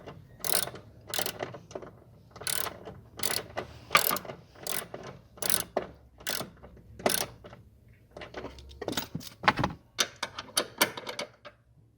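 A Hyundai HB20 seat belt being pulled out during a belt and airbag kit replacement, repeated bursts of close ratcheting clicks from the retractor, some quick and clustered, with short pauses between pulls.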